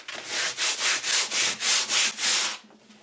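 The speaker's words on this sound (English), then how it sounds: "Here you do your sanding on top to make everything nice and smooth." Rhythmic back-and-forth sanding of a scroll-sawn wood piece with 150 grit sandpaper, about eight even strokes close up, then stopping.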